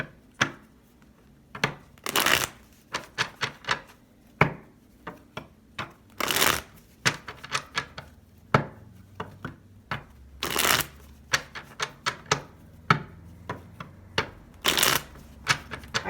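A deck of tarot cards is shuffled by hand in repeated quick riffling bursts and soft slaps, close and crisp, spread irregularly across a quiet room.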